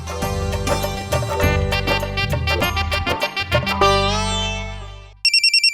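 A loud electronic phone ringtone plays a bright, looping melody, then cuts to a short run of rapid beeps at the end.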